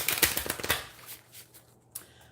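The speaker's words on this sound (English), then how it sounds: "I'm shuffling my Moonology Oracle deck that I'll be pulling from for you to open up your reading" A Moonology Oracle card deck is shuffled by hand, a quick burst of riffling card flutters up close that fades into a few softer taps and slides.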